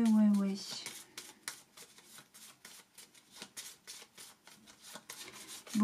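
Tarot cards shuffled and laid out on a table during a general reading, a steady run of soft papery flicks and slaps for several seconds, with a voice speaking briefly at the start and end.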